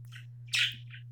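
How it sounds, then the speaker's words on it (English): Pet birds chirping indoors, a short burst of bright, high tweets with one louder squawk-like call in the middle, set over a steady low electrical hum. "My birds are being annoying"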